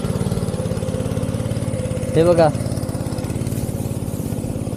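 A tractor engine chugs steadily with a low, rhythmic throb while puddling a rice paddy into mud, and someone speaks briefly over the continuous engine noise.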